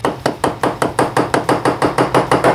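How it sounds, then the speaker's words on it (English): Dead blow hammer tapping a tight alternator cover on a Kawasaki ZX9R motorcycle, a dozen quick, evenly spaced, close thuds in a steady rhythm, with no talking. "Sadly, I'm going to have to use a dead blow hammer, I think, because it sits there pretty damn tight."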